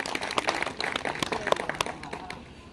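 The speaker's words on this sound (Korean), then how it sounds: "큰 박수 부탁드리겠습니다." An audience at a joint 60th-birthday reunion celebration for a high school class claps steadily, a dense patter of many hands at moderate loudness with faint voices mixed in.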